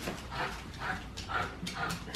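A dog whimpers softly in short, repeated high whines, close but faint, with no talking over it.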